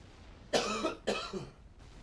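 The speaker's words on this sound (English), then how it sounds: "I have this lingering cough that's been here for like weeks now" Two harsh, raspy coughs close to the mic, one after another with a short pause between, then quiet.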